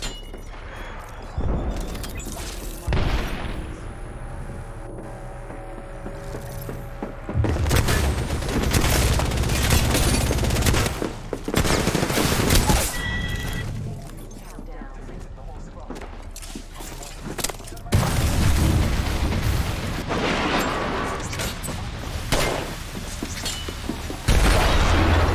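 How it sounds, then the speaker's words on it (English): Grenades and gunfire go off during a ranked solo match of Apex Legends. Loud booming blasts and bursts of shots come in clusters separated by quieter stretches, with someone talking throughout. "I naded them off from the two angles they were going to push me from"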